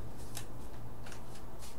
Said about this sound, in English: They're just bulk, but I like to shuffle them sometimes.